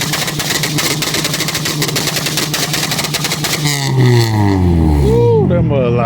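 A car revving hard at a two-step rev battle car meet, with sharp rapid popping crackles from the two-step limiter followed by a loud, falling engine roar; very close, with a crowd and voices mixed in.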